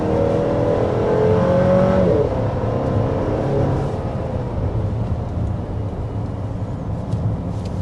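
A 2025 Chevy Traverse High Country SUV accelerates hard, its engine note rising to a loud, strained whine that peaks after a couple of seconds, then settles into a steadier cruising drone with road noise and no talking.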